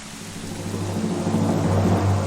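Rain falls with rolling thunder in The Legend of Zelda: Twilight Princess, heard as a steady low rumble under a broad hiss that slowly swells louder, with no talking.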